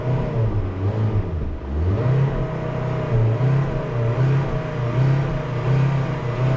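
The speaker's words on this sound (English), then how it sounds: "Once you get it started, you gotta rev it up" A 2021 Kia Forte GT-Line engine with a dirty, carbon-fouled engine at 40,000 miles idles loudly up close, its pitch dipping and rising as it is revved several times.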